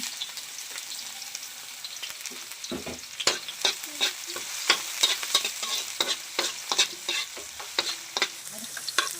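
Onion and garlic sauté in a hot pan for a Filipino dish, giving a steady loud sizzle with frequent crackling pops and stirring scrapes, no talking.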